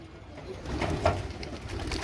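Pigeons coo close by on a rooftop while being fed, soft low throaty calls over light outdoor background noise.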